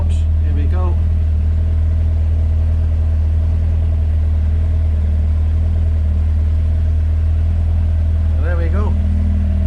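A Peugeot 205 GTi Mi16 engine idles close by after a throttle stop adjustment, with a loud, steady low rumble throughout while someone speaks briefly at the start and near the end.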